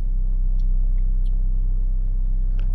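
Car interior on the road, a steady low engine and road rumble droning throughout with faint light clicks, no talking.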